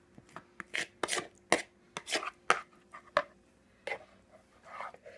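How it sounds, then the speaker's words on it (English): A spoon scraping stuffed-pepper filling out of a mixing bowl: a dozen or so sharp, uneven scrapes and taps close by, in quick bursts with short pauses. "So now I'm going to scrape the bowl here."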